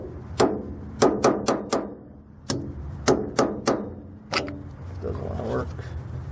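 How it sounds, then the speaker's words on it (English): Hammer blows tapping a hub assembly onto the axle of a 3500 lb trailer, struck around all four sides: about ten sharp metallic taps in uneven clusters, fairly close and distinct, with a faint rustle and low background noise afterward. "if you're using a hammer, go around all four sides"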